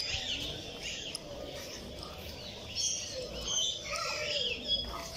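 Parrots in cages at a large walk-in aviary make repeated high chirps and squawks at moderate distance over a busy background, with faint voices nearby.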